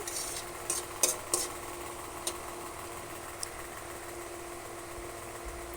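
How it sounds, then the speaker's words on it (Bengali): Salted onion frying in oil in a pan for a katla fish curry: a soft, continuous sizzle with a few sharp stirring scrapes, fairly faint and close, with no talk. "পেঁয়াজটা ভাজা হচ্ছে।"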